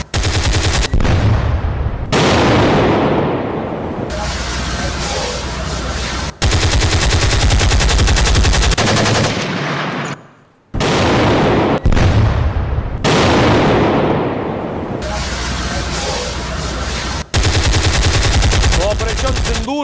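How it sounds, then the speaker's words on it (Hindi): Heavy weapons fire from Indian army positions pounding Pakistani posts: loud, sustained bursts of gunfire and booming blasts, broken by abrupt cuts and a brief near-silent gap, with no voices heard. "जो स्वदेशी हथियारों से ही पाकिस्तान के पोस्ट उड़ाए गए"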